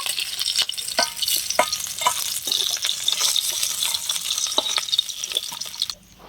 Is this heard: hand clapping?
no